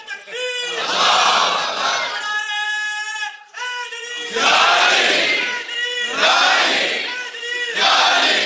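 A large crowd of young people chants slogans in loud, unison bursts, each shout swelling and fading, with a brief gap before the chanting rises again several times.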